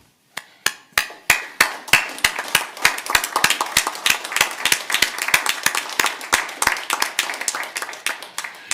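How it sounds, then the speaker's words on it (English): Clapping at a city State of the City address in Beloit, Wisconsin, sharp distinct claps that start sparse and quickly thicken into a steady, fairly close round of applause with little talk. "join me as we stand and give a round of applause for the dedication and hard work of the"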